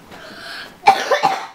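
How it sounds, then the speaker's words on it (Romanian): A few sharp, harsh coughs burst out close by after a brief rustle of breathy background noise, with two strong hacks a moment apart. "Like that kind of cough."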